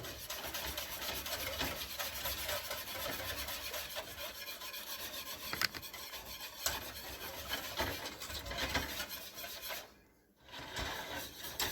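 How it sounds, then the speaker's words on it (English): A spoon steadily scrapes and stirs chocolate meringue pie filling in a pot as it thickens, a continuous soft rubbing that stays close and even, with a brief pause near the end. "I'm just going to be stirring this for a few minutes until this pie filling thickens up"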